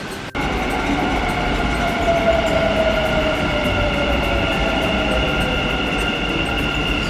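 Dubai Metro train riding toward Al Rashidiyah station, a steady interior rumble and hum with a high whine, continuous and moderately loud from inside the car, no talking.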